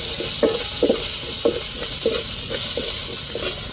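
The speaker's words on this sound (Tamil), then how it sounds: "இப்போ கருவேப்பிலை சேர்த்துக்கிடுவோம்." Curry leaves sizzle in hot oil for a crab soup while a spoon stirs them in a quick, regular rhythm of scrapes over a constant close crackle.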